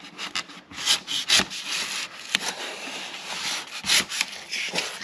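Metal ceiling molding is trimmed by hand with short, irregular rasping strokes, quiet and close, with brief pauses between bursts of cutting.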